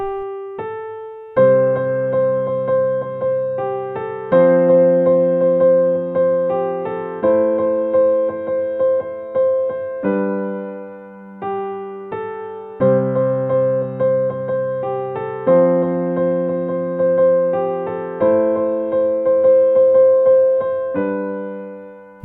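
Solo piano plays a melody over low bass notes, both hands together at a gentle, steady pace with sustained tones.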